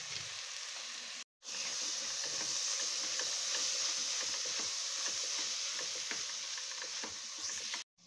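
Spices with coriander powder stirred in a pan for beef curry, a steady soft sizzle with light scraping taps, close and continuous apart from a momentary cut.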